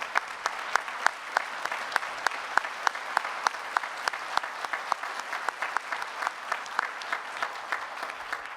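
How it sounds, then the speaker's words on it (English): Applause from a modest audience at a nursing organization event honors veterans in the room, with crisp, distinct claps in an even, fairly sparse rhythm at moderate volume throughout. "Can we please give them a round of applause?"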